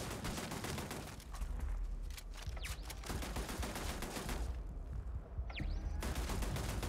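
Rapid automatic turret gunfire in the Starfield space video game, dense rattling bursts of shots that pause briefly and resume, loud and continuous with a few whooshing streaks, no talking over it.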